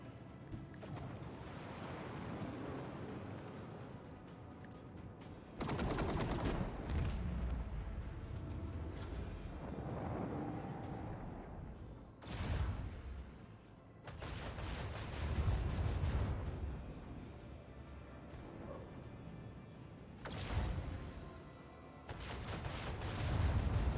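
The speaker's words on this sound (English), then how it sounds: "Launch the devastating payload!" Weapon payload barrage in the video game Rogue Trader: repeated heavy blasts and booming volleys arrive in several loud waves over a rumbling, continuous battle din.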